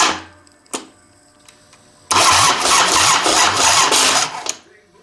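A Harley Big Twin motorcycle engine cranks on its push-button starter and catches, running loudly with a rapid, steady rumble for a few seconds before dying away, following a couple of faint clicks.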